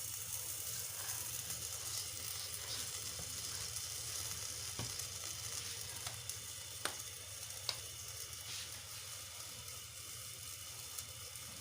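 Chicken for paratha rolls frying in a pan, a constant dense sizzle at low level with occasional faint clicks and stirring touches, no voices.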